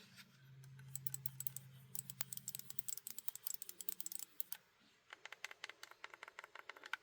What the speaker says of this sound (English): I like those clicky switches.